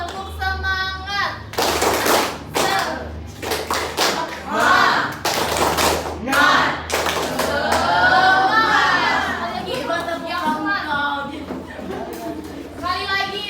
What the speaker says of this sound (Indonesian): Ayo teman-teman, kita tepuk semangat.